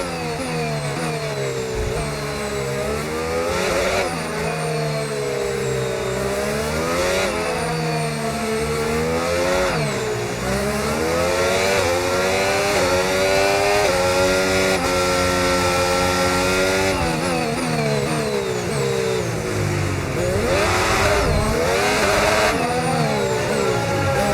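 McLaren MCL39 Formula 1 car in a video game, its engine whining loud and close, revs repeatedly rising and falling through gear changes over a long continuous run.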